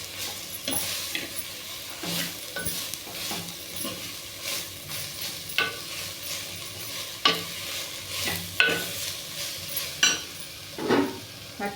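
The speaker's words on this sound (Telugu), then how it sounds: "మంచిగా కలుపుతున్నాను వేగిన వరకు." A bunch of coriander stirred and frying in a pan for a ridge gourd peel chutney: continuous soft sizzle with repeated scraping strokes of a spoon against the pan, close and without talk.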